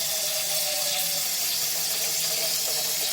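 Tap water runs into a kitchen sink or bowl to fill an ice bath for celery, making a steady, close rushing hiss without pauses.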